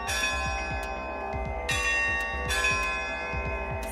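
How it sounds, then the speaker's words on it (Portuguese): The bell of Braga Cathedral in Portugal rings repeatedly with rich ringing overtones, its strikes layered and resonant, steady and fairly distant. "Sino da Igreja da Sé de Braga, especialmente para você."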